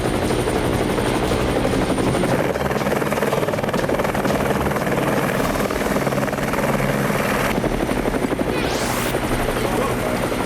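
A cartoon helicopter in a Motu Patlu dinosaur adventure drones loudly and continuously with a chopping rotor buzz, and a rising whooshing swoop sweeps up near the end.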